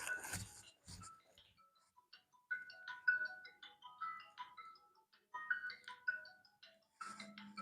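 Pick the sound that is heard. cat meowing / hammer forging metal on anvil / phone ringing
phone ringing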